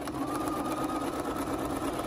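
A sewing machine runs continuously, stitching a crochet panel bag, a steady close mechanical whir and patter throughout with no pauses and no speech.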